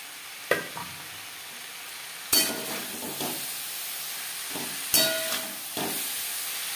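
Spinach being stirred into pumpkin and eggplant in a pan over high to medium flame, with a steady soft sizzle and a few distinct scraping strokes spaced several seconds apart, no talk.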